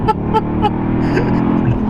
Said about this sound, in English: if I didn't know you and I saw this Mercedes fly past me, making this sound